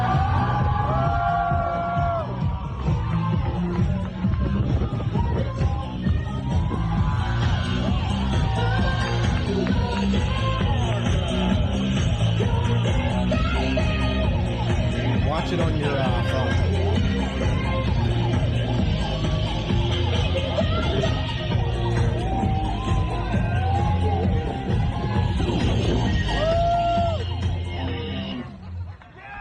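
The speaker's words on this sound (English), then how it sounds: "You just see all these parents and they're just cheering" A dense crowd of parents cheers, whoops and yells at a family-friendly drag show, their loud, continuous roar filling the space while a nearby voice speaks briefly over the din.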